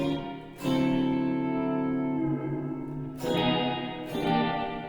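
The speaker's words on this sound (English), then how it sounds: "And then of course we can increase the decay time to get a larger space." Sustained synth-like chords ring out through a Strymon blueSky reverberator set to a long decay time, a long, washy reverb tail swelling at each new attack and lingering between them.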